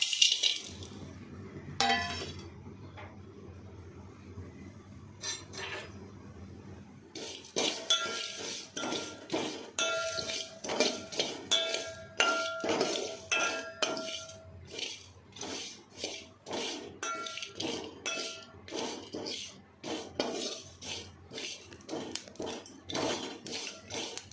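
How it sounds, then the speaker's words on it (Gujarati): Spices roasting together in a pot over a gas flame, with a long run of close metallic scrapes and clinks of a utensil stirring against the pot after a quieter opening; no voices. "હવે આ બધા જ મસાલા એકસાથે શેકી લઈશું"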